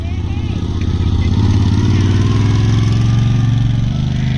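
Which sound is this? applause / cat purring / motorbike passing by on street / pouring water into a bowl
motorbike passing by on street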